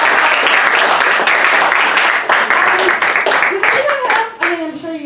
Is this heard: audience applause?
yes